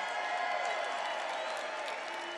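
A large outdoor political rally crowd in Arizona sends up a sustained roar of cheering and applause, dense and even, with no clear break.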